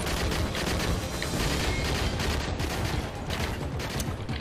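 AK-47 gunfire in Modern Warfare 3 Resistance Survival mode, a dense continuous barrage of rapid shots and booms throughout, loud and unbroken, with no voices over it.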